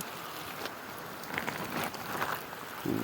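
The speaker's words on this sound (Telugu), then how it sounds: "చూడండి వర్షం ఎలా పడుతుంది" Rain falls outdoors in an open grazing area, making a steady, even hiss with a few louder patters and gusts.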